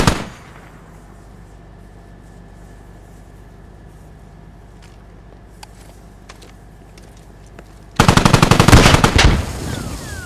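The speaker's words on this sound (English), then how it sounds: "There is the first shooting. LAV shoots." Automatic cannon and gunfire from an LAV armored vehicle in the tactical shooter Squad, a few faint distant shots over quiet ambience, then a loud sustained burst of rapid firing close by near the end.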